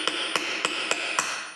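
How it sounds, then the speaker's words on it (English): A small hammer taps a nail set down onto a nail in a small wooden tray project, five sharp, evenly spaced metallic knocks, close and crisp with nothing else heard. "put it right over the nail with a little hammer"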